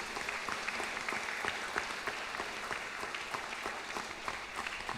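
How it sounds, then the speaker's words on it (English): The congregation at an Easter Sunday Mass claps in a steady round of applause. It sounds fairly distant and reverberant in the church and carries on without pause. "So for Lid and for Krishan, let us give them a big round of applause"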